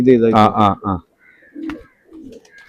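A short stretch of human voice gives way to soft, low cooing from domestic pigeons kept in a loft. The calls come in a few quiet, murmuring bursts.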